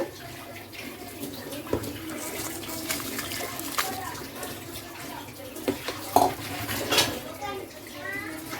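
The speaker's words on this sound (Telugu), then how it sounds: "వాటర్ బాగా మరిగింది ఇప్పుడు ఇందులో మనం రైస్ పోసుకుందాం" Rice pours and splashes into a pot of bubbling water for prawn biryani, with scraping and kitchen clatter, and a voice murmuring in the background.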